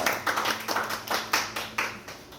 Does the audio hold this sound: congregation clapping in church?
yes